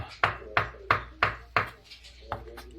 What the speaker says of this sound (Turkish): taze sarımsak ve taze soğan doğruyoruz